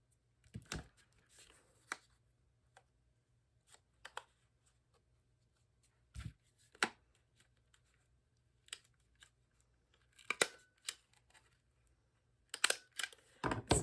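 Scissors snipping card stock at a papercraft table while making a shaker card: scattered, sharp, isolated cuts and clicks separated by near silence, a few quick clusters of snips toward the end.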